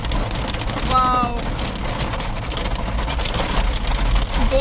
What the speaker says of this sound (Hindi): हमारा बोनट देखो, ओले पड़ गए हैं इतने सारे यार